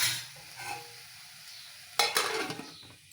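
Spiced curry being stirred in a pan, with a spoon scraping and stirring over a soft sizzle that swells louder near the end; no one speaks.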